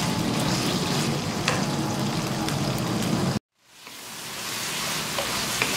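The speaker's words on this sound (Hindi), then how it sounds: "तो गार्लिक से बहुत अच्छा सा फ्राई कर लें।" Boneless chicken pieces fry with garlic in a pan, a loud, steady sizzle that cuts off abruptly, then swells back as frying resumes.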